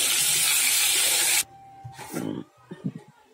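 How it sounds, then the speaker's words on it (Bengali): Pointed gourd pieces fry in hot oil in a wok, a loud steady sizzling hiss that cuts off abruptly, followed by softer clatter and a voice speaking. "কড়াতে তেল দিয়ে দিয়েছি, তেলও গরম হয়ে গেছে। পটলগুলো আগে দিয়ে দিচ্ছি, পটলটা আগে ভেজে নেব।"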